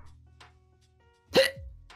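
A single loud, sharp hiccup from a person bursts out near the end, sudden and close, over a quiet background hum.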